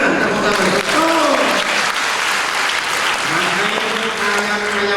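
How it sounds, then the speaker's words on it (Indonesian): Sustained applause fills a live comedic sermon hall, a dense steady wash of clapping from a large audience, with voices and shouts audible underneath throughout. "Tepuk tangan, tepuk tangan"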